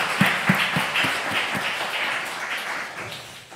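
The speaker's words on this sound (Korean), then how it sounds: "우리 하나님께 영광의 박수 올려드리겠습니다" A church congregation claps in a run of distinct, evenly spaced claps at first that blend into looser scattered applause and fade out.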